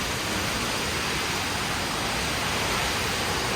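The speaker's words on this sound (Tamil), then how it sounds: "அந்த கஷ்டத்தை எல்லாம் தாண்டி நாம் வந்து ஃபைனலாக நாம் நாரதா ஃபால்ஸை பார்த்துட்டோம்" Narada Falls, a snowmelt-fed waterfall in the USA, roars as a steady, dense broadband rush that fills the whole clip without a break, close and loud with no voices over it.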